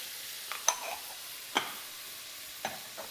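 Seasoned tomatoes sizzle softly in a pan while a utensil stirs and scrapes across the bottom, making a few distinct scraping clicks over a steady, quiet frying hiss.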